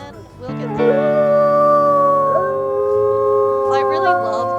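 A wolf in WolfQuest: Anniversary Edition lets out a long, loud, rising and falling howl that holds steady for several seconds, clear and close with a faint game ambience underneath.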